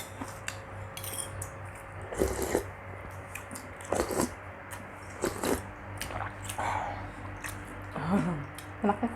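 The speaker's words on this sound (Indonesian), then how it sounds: "Tinggal seruput sedikit kuahnya." Slurping of broth from a bowl of bakmi noodle soup, several short wet sucking bursts spaced a second or two apart, close and moderately loud over a faint steady background hum.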